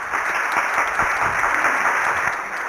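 An audience claps for a play, a dense, steady round of applause from a seated crowd that holds at an even level, easing slightly at the end.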